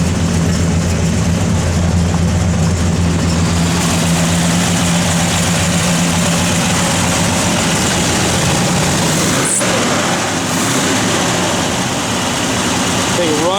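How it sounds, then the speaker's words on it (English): A 1967 Chevrolet Chevelle SS big-block V8 idles with a loud, deep, steady rumble up close that continues throughout, with a brief blip partway through. "We'll have Jordy fire it up here. Again, good sound and big block"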